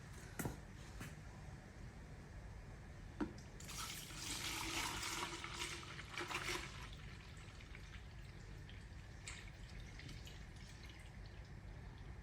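Transmission fluid drains from the ECVT of a 2025 Toyota Camry, a faint, steady trickle and splash of liquid with a louder pouring stretch in the middle and a few small drips.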